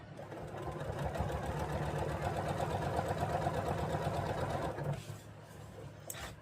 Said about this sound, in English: we're going to sew corner to corner.